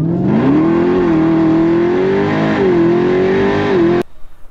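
A Jeep Trackhawk's engine, a Grand Cherokee wrapped in satin black, revs loud and close in one sustained climbing and dipping run, then cuts off abruptly near the end, leaving quiet rumble.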